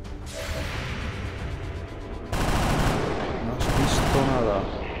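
Dense bursts of XCOM 2 video game gunfire, a reaction shot, with rapid shots and a whooshing blast, loud and continuous, rising in intensity partway through.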